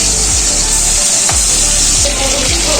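Pieces of chicken frying in a hot pan for a yogurt chicken dish, a steady, close, loud broadband sizzle running throughout, with a few low knocks from the pan or utensil.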